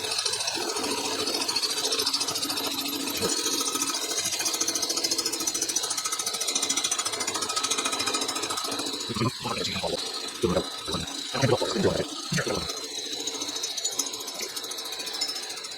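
A machine cuts metal while a broken aluminum ear bolt hole is being repaired: a continuous close grinding, rattling whir, ending in several sharp clattering knocks and chatter.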